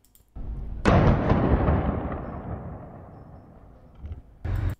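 A loud gunshot-like bang in Gaza with a long rumbling echo that slowly fades, then another burst of rapid shots right at the end.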